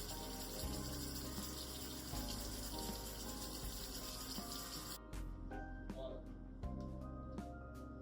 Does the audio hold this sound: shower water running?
yes